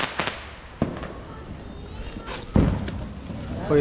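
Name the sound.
Diwali sky shot fireworks exploding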